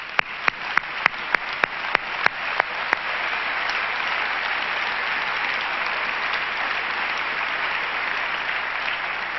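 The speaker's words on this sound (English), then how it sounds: "Let's give him an applause right now." Steady applause from a church audience for a pastor, a dense even wash of clapping throughout with a few sharp nearby claps standing out in the opening seconds.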